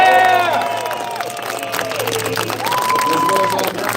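Audience applause and cheering in a horse show arena, a steady wash of clapping and crowd noise with an amplified voice and tonal music running over it throughout.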